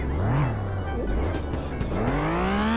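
A car in the Sakura School Simulator video game revs and races by, its engine pitch rising and falling with tire squeals, loud and close throughout.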